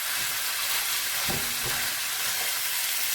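Frozen ground beef browns in a hot pan with a steady broadband sizzle and frying crackle, close and continuous, with a few soft scraping stirs partway through and no talking.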